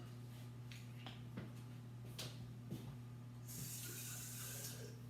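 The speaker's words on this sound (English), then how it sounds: "So I'll just get a little water in there." Water runs steadily from a kitchen tap into a baking dish, a soft continuous hiss over a low hum, with a brighter splashing rush near the end.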